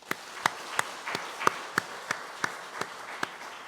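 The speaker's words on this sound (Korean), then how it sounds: "박수로서 하나님께 영광 돌리도록 하겠습니다." A church congregation claps in a steady unison beat, about a dozen sharp claps evenly spaced at moderate volume.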